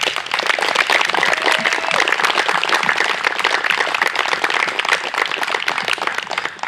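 Sustained, dense applause from a crowd at a fire department badge pinning ceremony in Wisconsin Rapids, steady and loud throughout with no pauses.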